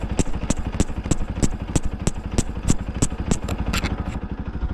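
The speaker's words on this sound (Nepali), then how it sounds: "एनएस बाइक भएर सजिलो भयो नत्र त गाह्रो हुन्थ्यो" An NS motorcycle rides a rough, broken road. The engine holds a steady low drone with a quick, regular rattling clatter laid over it, close and continuous with no talking.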